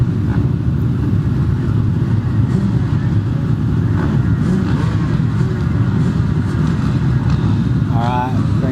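Motocross bikes idle and rev on the start line before a race at Cessnock, a steady loud engine drone throughout with a slight rise near the end, while a commentator talks over it.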